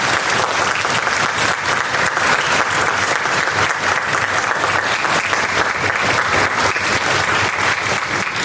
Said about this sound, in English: if we could give another round of applause.